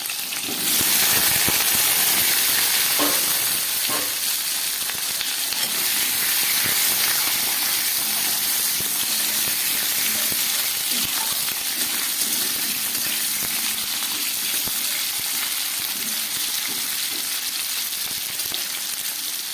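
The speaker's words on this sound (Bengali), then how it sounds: "চিংড়ি মাছ ভাজার তেলের মধ্যে দিয়ে দিচ্ছি একটু গোটা জিরে ফোড়ন। আর দিয়ে দিচ্ছি একটা তেজপাতা, আর দিয়ে দিচ্ছি একটা টমেটো, আর সঙ্গে দিয়ে দিচ্ছি কেটে রাখা আলু।" Potatoes, a tomato, a bay leaf and whole cumin seeds fry in leftover prawn-frying oil, giving a loud, steady, dense sizzle with crackles that runs continuously and closely throughout, with no talking.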